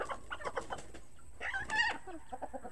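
Young chickens cluck and peep nearby in short bursts of small, rapid calls, with quieter gaps between and no talking.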